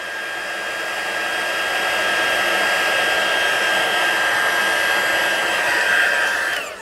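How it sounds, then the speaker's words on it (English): A heat tool for crafting blows hot air with a steady, loud whirring hiss that holds for several seconds before cutting off at the end, with no talk. "Just first the heat tool, it's not hot, but then the minute it gets hot"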